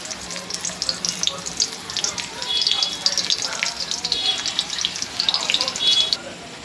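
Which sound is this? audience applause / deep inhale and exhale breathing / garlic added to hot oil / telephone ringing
garlic added to hot oil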